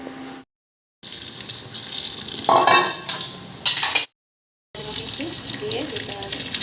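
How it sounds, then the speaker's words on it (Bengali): Water drains and splashes off boiled Maggi noodles in a home kitchen, a running, gushing pour broken by short pauses and a few clinks of utensils, while a voice talks intermittently. "একটু জল ঝরতে হবে।"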